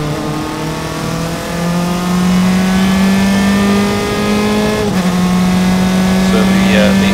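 SCCA IT Spectacular qualifying race cars at Mid-Ohio roaring past on the straight, loud sustained engine drone that rises in pitch as the cars accelerate, a second car passing near the end, with commentary over it.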